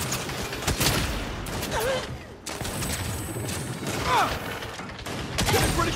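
Sniper fire in Saints Row, repeated sharp shots and impacts scattered through a busy, noisy combat mix with mechanical clatter throughout.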